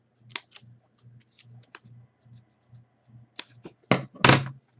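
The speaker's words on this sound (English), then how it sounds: "take your scissors again, cut a slit on the tab that you made" Scissors cut a slit in the tab of a homemade bottle rocket fin, heard as a string of small, crisp snips and clicks close to the microphone, ending in a few louder rustling cuts.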